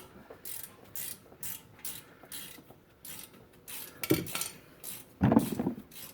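A ratchet clicks in short, scattered bursts of metallic ticking while working on the front brake caliper of a 2004 BMW 325xi, with some clanks of tools, fairly quiet and close.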